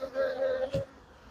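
Honey bees buzz around an opened hive during an inspection, a steady droning hum with a brief dull thump partway through, then fading quieter.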